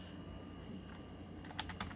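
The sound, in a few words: PS/2 keyboard typing on a DEC Starion 300 retro PC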